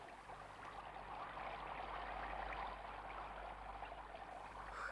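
A spring stream runs freely through a forest, its steady broadband rush of flowing water continuous and fairly close, with no voices over it.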